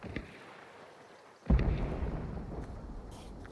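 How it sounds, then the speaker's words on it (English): A loud explosion bursts suddenly in a video game, a deep booming blast that rumbles and fades over a few seconds after quieter background noise. "There's explosions southeast."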